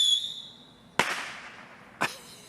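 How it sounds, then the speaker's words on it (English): Distant July 4th fireworks or firecrackers: two sharp cracks about a second apart, each trailing into a short rolling echo, heard from far off outdoors after a faint high whistle, with no one talking. "you can hear people shooting all around us"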